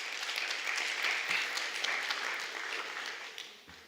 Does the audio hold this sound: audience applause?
yes